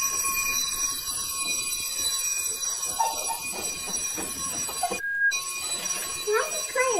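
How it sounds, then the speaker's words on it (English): An indoor fire alarm rings upstairs, a steady high electronic tone running continuously in the background while someone speaks over it. "Fire alarm's going off"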